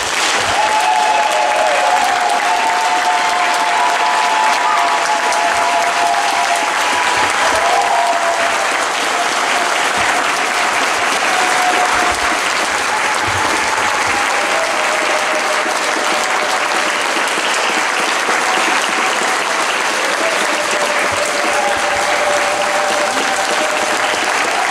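A hall full of people at a Montreal community tribute to Dr Valentin Mbekou claps loudly and steadily, a dense, sustained round of applause that holds at full strength throughout, with faint voices mixed in.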